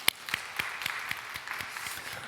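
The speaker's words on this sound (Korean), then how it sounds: "우리 하나님께 감사와 영광의 박수 올려드리겠습니다" Scattered applause from a church congregation at a Sunday service, with distinct individual claps landing in a loose, fairly regular rhythm over a soft bed of quieter clapping, moderately close and unaccompanied by speech.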